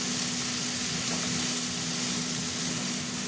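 Chopped onions and tomatoes fry in a hot pan of oil for a fish curry, giving a steady, close sizzle with soft bubbling that holds evenly throughout, with no voices.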